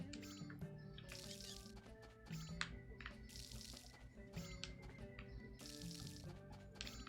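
Watering can pouring over farm crops in the Story of Seasons: A Wonderful Life video game, repeated soft splashing bursts at steady intervals under looping game music, fairly quiet.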